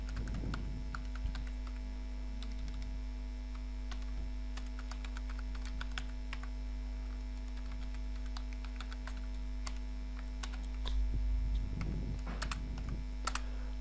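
Light, scattered keystrokes on a computer keyboard entering a login email, soft irregular clicks over a steady electrical mains hum, with a few denser bursts of typing.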